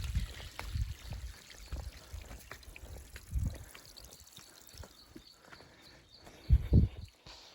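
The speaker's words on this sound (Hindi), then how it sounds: "ऐसा पानी तो काफ़ी ऊपर से आ रहा है।" Water falls from high above into a stone bathing pool at a big waterfall near a Hanuman temple in Gwalior, a steady rushing splash with occasional low thumps of handling noise.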